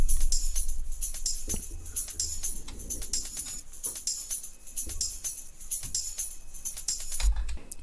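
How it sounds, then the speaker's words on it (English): Tambourine loops programmed in FL Studio Mobile for a future house track, with rapid jingly shakes and hits repeating steadily over a low bass pulse, all electronic with no voices. "We add some tambourine loops."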